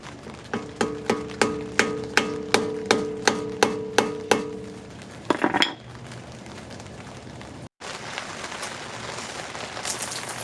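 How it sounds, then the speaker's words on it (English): About a dozen evenly spaced sharp metallic taps ring out as an old broken screwdriver is struck to pry up the stake tab on the axle nut of a 1999 Acura RL, followed by scraping and clattering tool noises. "I'm using an old broken screwdriver to lift the tab that stakes the axle nut to the axle."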